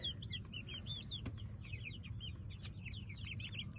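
Chickens on grass pasture, housed in a mobile chicken tractor, cluck and chirp steadily at moderate distance over a constant low outdoor rumble.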